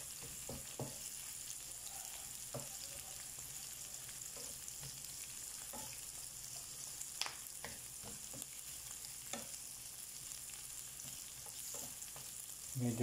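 Onions browning in a pan for sautéed bitter gourd with tuna, giving a faint, steady low sizzle with occasional soft scrapes and taps of stirring and no speech.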